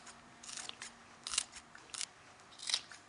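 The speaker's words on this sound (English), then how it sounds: "And now a spring onion. I'm just going to snip it in." Kitchen scissors snipping a spring onion into a prawn salad, a series of crisp close crunchy snips spaced irregularly, quiet and without voices.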